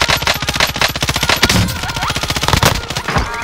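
Rapid automatic gunfire from a Warzone/Apex shooter, loud close bursts of fast repeating shots with brief pauses between volleys.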